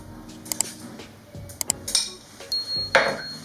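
Cooked greens and lentils are transferred into a mixer jar with scattered clinks and scrapes of a metal spoon against the jar and vessels. Light knocks and taps come at irregular intervals, close and moderately loud.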